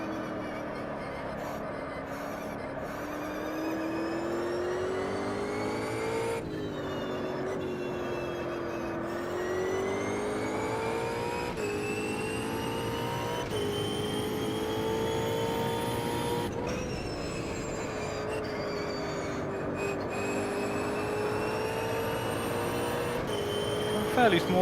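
Race car engine on the Spa circuit in Automobilista 2, a high whining rev that climbs and drops sharply with each gear change across a lap, steady and close, with brief cuts on upshifts.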